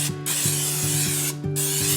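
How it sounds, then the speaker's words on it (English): Cooking spray is sprayed into a non-stick slow cooker pot in two short, close hissing bursts, with quiet rubbing between them. "This is the pot to my slow cooker, so I'm gonna go ahead and spray it."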